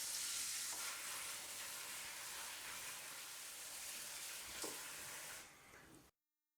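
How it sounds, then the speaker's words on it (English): Water rinses over Moscato grapes being cleaned for winemaking, a steady broadband splashing hiss held for about six seconds before cutting off. "maybe it's a good idea if we gave them a quick rinse"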